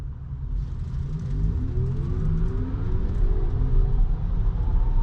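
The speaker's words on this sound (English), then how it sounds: "Do you like that sound that comes from the motors?" A 2024 Audi Q8 e-tron electric car plays an artificial motor sound while driving, a low rumble under smooth rising synthetic tones that climb steadily as it accelerates, heard from inside the cabin.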